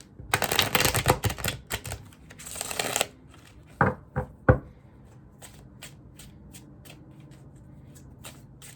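A deck of cards is riffled in two quick bursts of fluttering, then a few sharp taps and faint soft clicks, close and quiet.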